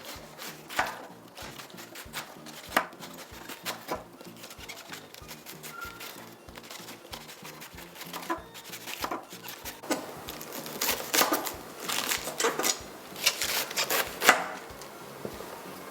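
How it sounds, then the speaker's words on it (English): A sharp knife cuts cabbage into thin slices on a board, giving a steady run of close, crisp chops at an even rhythm that grows busier and louder toward the end. "we're going to cut up our cabbage. You're just going to make thin slices, just like so, using a sharp knife"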